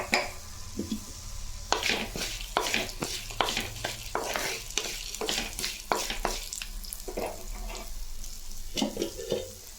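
Ginger and garlic fry in a pan for a spicy mutton trotter curry, with a continuous sizzle under many quick, loud stirring scrapes close by and no speech.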